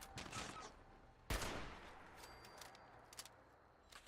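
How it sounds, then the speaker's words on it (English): Robots firing guns in the video game Fallout 76, a sharp loud shot followed by scattered quieter bursts and rattles of gunfire over low background game ambience. "Getting shot by the robots."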